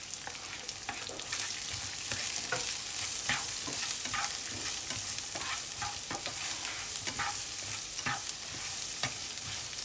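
Garlic fries in a pan for char kway teow, with a steady sizzle under repeated scraping stirs of a utensil, close and continuous, with no voices.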